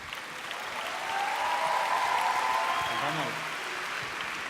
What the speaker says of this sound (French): vous pouvez vous applaudir plus fort